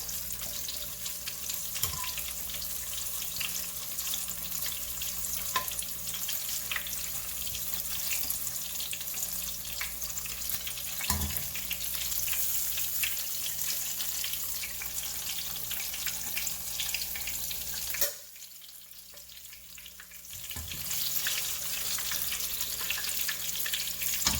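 Banana pieces deep frying in hot oil, giving a steady, close, loud sizzle and crackle that briefly drops away partway through and then comes back.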